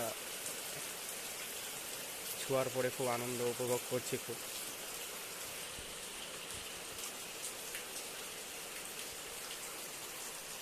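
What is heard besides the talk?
rain falling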